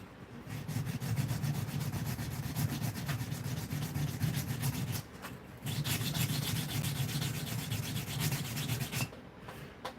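Sandpaper rubbed steadily against the handle of a Buck 112 Slim knife, a dense continuous scratching that pauses briefly midway and again near the end, close and fairly loud with no talk.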